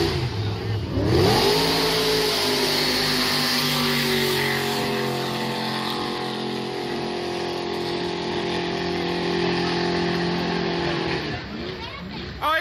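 A racing jet boat engine, boosted with turbos or nitrous, roars loudly and holds a high, straining pitch at a river race, then drops off near the end, with crowd noise in the background.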